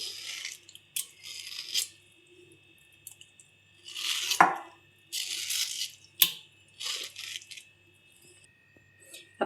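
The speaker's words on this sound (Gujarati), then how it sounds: "હવે નાના નાના પીસ કરી લેશું." A knife chops peeled mango into small pieces, giving close, irregular bursts of crisp cutting and squishing with short pauses between them.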